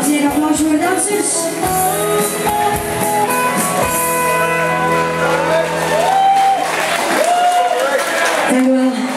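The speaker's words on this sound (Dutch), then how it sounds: "Dames en heren, applaus voor de dansers." An audience claps and cheers for dancers at a show in Olmen, the applause mixed with shouts and whoops under loud, sustained music with tonal melodic lines.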